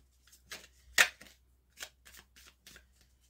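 A Lenormand card deck being shuffled and cut by hand, a series of short crisp riffles and slaps in separate bursts with near silence between, one louder snap in the middle.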